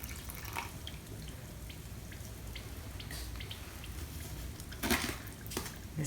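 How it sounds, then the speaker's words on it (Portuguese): Water is poured into creative concrete powder mix: soft splashing and dribbling, then a couple of brief, sharper pours near the end. "Agora nós vamos adicionar aqui a água."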